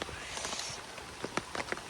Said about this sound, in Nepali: खोलाको आवाज अनि यो पानीको के भन्छ थोपाको तपकनी